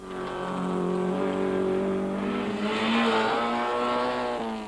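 Rally cars, including a VW Chico, race during the Cape Rally, with a steady, loud engine drone that rises and shifts in pitch as they rev hard and push on.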